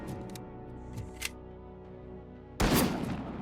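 Video game gunfire from snipers: faint distant shots and clicks early on, then a single loud, close burst of gunfire near the end that rings on under a steady low background hum.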